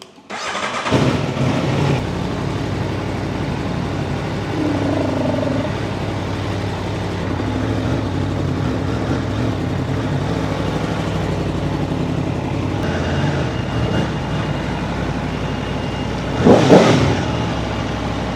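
An Aprilia Tuono V4 Factory SE-09 SBK motorcycle engine runs steadily and loudly at idle for the whole stretch, with one brief rise in revs near the end.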